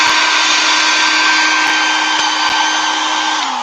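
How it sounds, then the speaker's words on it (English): A loud hair dryer on its cool setting blows continuously at close range, a steady whooshing whine that barely changes throughout. "So I'm gonna put the hair dryer with the cool button."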